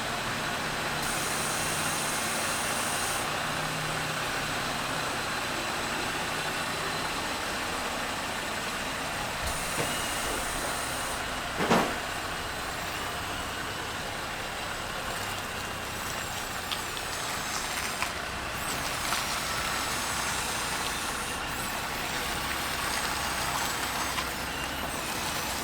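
Jeep Gladiator fitted with a Rough Country lift kit driving on a test run, steady road and engine rumble from inside the cab with a brief sharp knock partway through and faint shifting noises.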